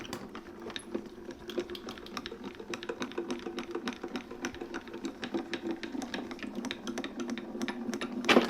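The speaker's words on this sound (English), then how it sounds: "And we're going to run it through the grand caliper." A paper crafting sheet cranked through a Grand Calibur die-cutting machine, producing a rapid, regular clicking ratchet-like rattle that runs steadily and close throughout, with a slightly louder burst at the end.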